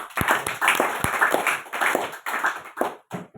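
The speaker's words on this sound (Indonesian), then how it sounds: "Mari kita tepuk tangan buat Tuhan" A church gathering of pastors claps along in loud, uneven bursts of hand claps with a few sharp individual strikes standing out, fading into scattered claps at the end.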